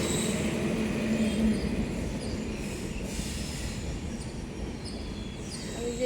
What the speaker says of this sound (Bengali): বলতে বলতে ট্রেনও চলে আসছে।